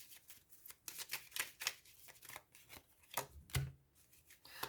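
Tarot cards being shuffled and drawn during a reading, heard as a run of soft papery riffles and slaps in uneven bursts, close and fairly quiet, with no talking.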